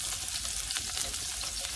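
Chopped garlic sizzles and crackles steadily in a hot pan as it is stirred, a close, continuous frying hiss heard on its own.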